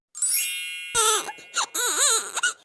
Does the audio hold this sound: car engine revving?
no